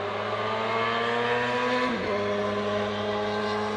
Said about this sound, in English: They make loud noises in their cars.